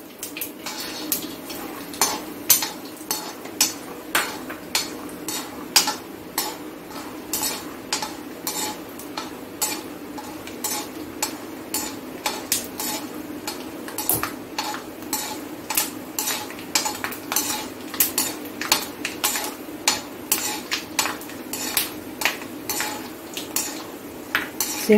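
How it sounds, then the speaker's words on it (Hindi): Peanuts stirred and roasting in oil in a kadhai (wok) with mustard seeds, giving a steady run of metallic spoon scrapes and clinks against the pan over a soft sizzle, with no voices. "सिंगदाना रोस्ट हो चुका है, अब हम इसको दूसरे बर्तन में निकाल लेंगे।"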